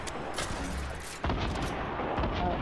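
Rockets fire and explode in a shooter video game, with dense, booming blasts that crackle continuously. A sharp new burst hits partway through and keeps the noise loud, with no clear gaps.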